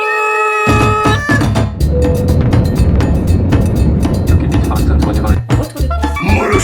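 A pet cat meows loudly and close by, repeated calls sounding over a busy, clattering household background, with no one speaking.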